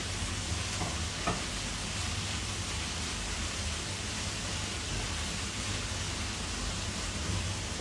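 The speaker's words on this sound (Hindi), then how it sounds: "अब इसमें मैं ये प्याज डाल दे रही हूँ।" Sliced onions go into okra frying in a pan and are stirred, giving a soft, even sizzle with a faint scrape or two, steady and close with no talk.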